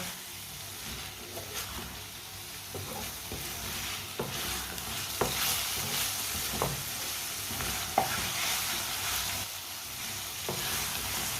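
Kaleji masala fries on high heat with a constant close sizzle, punctuated by occasional spatula scrapes and taps against the pan as it is stirred.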